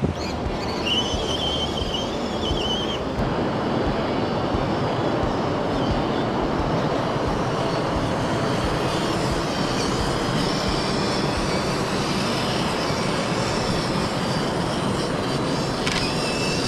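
A 1:18-scale FMS FCX18 K10 squarebody RC crawler truck drives along with a steady whining motor and gear drone, continuous and fairly loud, with some higher squealing tones and no talking.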